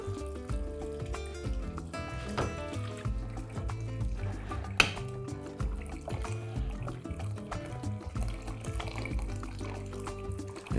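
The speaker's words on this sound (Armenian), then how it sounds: "ոսկորների վրա լցնում ենք եռացրած ջուր, այնքան որ ծածկվեն" Boiled water poured from a kettle over chicken bones in a pot for broth, a continuous splashing, gurgling stream with shifting liquid tones and one sharp knock partway through, no talk.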